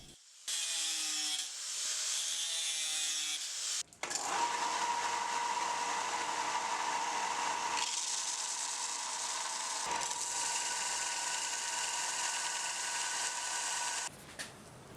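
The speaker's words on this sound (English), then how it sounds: "Now I'll use my grinding wheel and belt sander to grind the pins flush with the handle." A steady, loud abrasive whine of a belt sander grinding metal knife handle pins flush with the handle on a Wharncliffe knife, running almost continuously with a few brief pauses and shifts in pitch.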